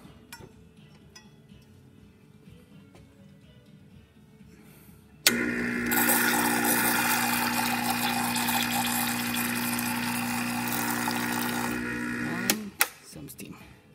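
A Gaggia espresso machine, recently checked for a slow pump and low pressure, runs its pump loudly and steadily for about seven seconds while dispensing hot water, starting and stopping abruptly, with quieter background noise before it kicks in.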